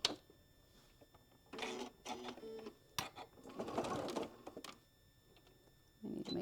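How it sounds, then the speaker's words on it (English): Sewing machine stitching elastic along the edge of a fabric scissor pouch, heard as a few short bursts of mechanical whirring separated by pauses, close and moderately loud. "I'm just going to do a quick little stitch about 1/8 of an inch edge from the edge"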